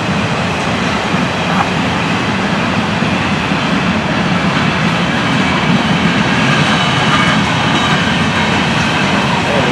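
A loud freight train with auto racks rumbles past nearby for the whole stretch, a continuous heavy roar of rolling cars with faint rhythmic clacking.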